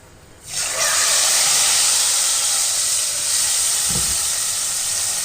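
Hot tempering poured into kadhi pakora gives a sudden loud, steady sizzling hiss that holds strongly to the end, with no voices over it.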